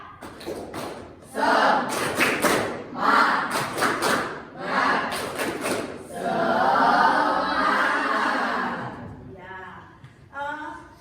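A classroom of children performs the tepuk semangat spirit clap, a teacher's voice counting them in before bursts of rhythmic group clapping and shouted chant, with talk between the patterns.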